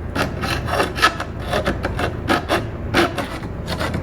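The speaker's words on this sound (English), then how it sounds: "I'm just gonna use a hacksaw blade when things have been painted or just old and full of grime" A hacksaw blade scrapes paint and old grime out of the slot of a painted screw, giving quick, rough back-and-forth rasping strokes, close and fairly loud with no talk.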